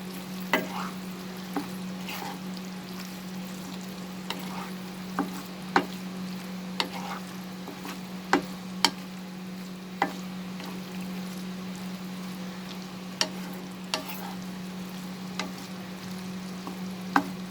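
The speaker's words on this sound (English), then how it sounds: "Now we are going to add the fried okra or lady's finger. Saute this." Fried okra sautéing in a pan with mustard and poppy seed paste, a low steady sizzle under sharp, irregular clicks and scrapes of a spatula stirring, close and continuous, without speech.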